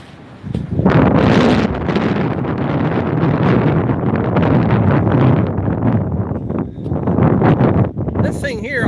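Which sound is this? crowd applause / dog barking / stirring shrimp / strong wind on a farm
strong wind on a farm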